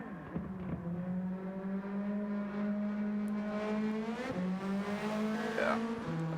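A Renault Twingo Cup race car at the Nurburgring GP circuit holds a steady, droning engine note with a high tire squeal as the wheels lock under braking, heard from a distance under faint commentary.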